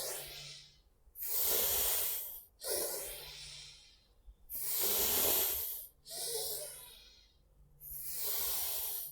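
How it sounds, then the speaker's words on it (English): Fast yoga breathing in and out: loud, breathy rushes of air alternate with short pauses in a steady rhythm, each forceful exhale hissing close to the microphone. "Breathing in. breathing out. And you can do this a bit faster if you like."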